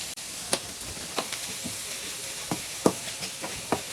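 Onions sautéing in a pan for matar paneer bhurji give a steady sizzle and hiss, broken by occasional sharp clicks and taps of a spatula against the pan, close and fairly loud.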